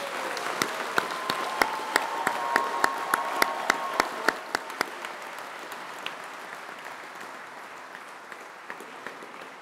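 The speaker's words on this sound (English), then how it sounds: "give a huge round of applause to the graduates of the University of Greenwich" Scattered audience clapping for graduates at a University of Greenwich ceremony, with crisp individual claps standing out over a light crowd wash before fading into sparse, quieter claps.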